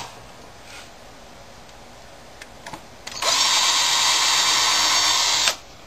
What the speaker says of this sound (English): Drill that hole.